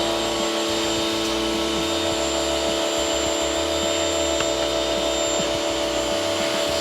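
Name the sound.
Kärcher pressure washer jet spraying dirt off gutter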